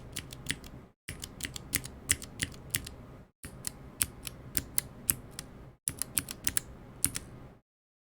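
Crisp clicky keystrokes from MX Clicky White mechanical switches, typed in quick bursts with short pauses between them, close and fairly quiet.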